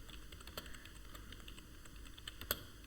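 Python code for a micro:bit project typed on a computer keyboard, a quiet rapid patter of key clicks with one louder keystroke near the end, close and faint, no voices.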